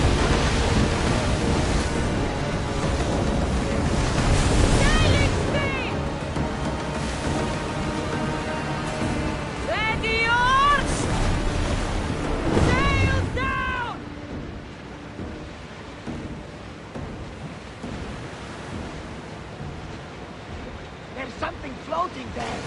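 A warship sails over ocean waves in Assassin's Creed Odyssey, a steady loud wash of surf and hull spray under rushing wind, with whistling calls and crew shouts breaking through before the sea noise eases.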